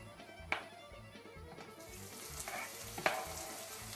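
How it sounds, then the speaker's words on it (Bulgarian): Chopped leek stalks sauté gently in hot oil, giving a soft, steady sizzle that stays fairly quiet, with a couple of sharp taps from utensils against the pan. "Щом се сгорещи олието, леко задушаваме праза."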